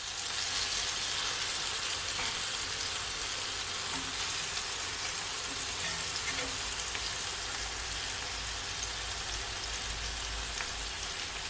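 Jerk chicken frying uncovered in a pan on a stove over medium-high heat, giving a steady, dense sizzle with a constant crackle that stays close and even throughout.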